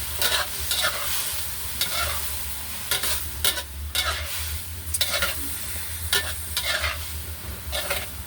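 Pork belly and cabbage stir-fried in a pan, with a steady sizzle under repeated scraping strokes of a spatula throughout, close and fairly loud.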